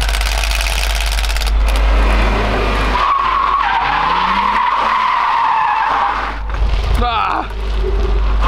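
A car drifts with tires skidding in a loud screeching slide over engine roar, then a quieter stretch; a voice is heard talking in the background.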